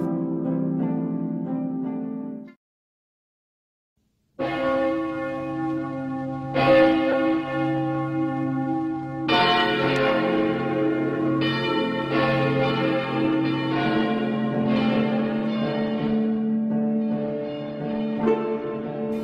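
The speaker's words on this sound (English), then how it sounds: "The church bells of Santo Domingo are heard from the distance" Church bells of Santo Domingo ring out in a slow, overlapping peal, resonant tones ringing on after each strike, heard from some distance after a short silence.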